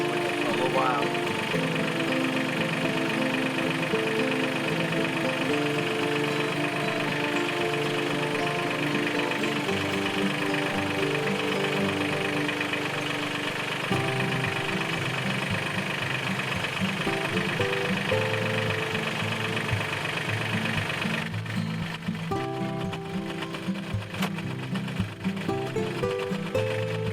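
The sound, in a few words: Mahindra 1600 tractor engine idling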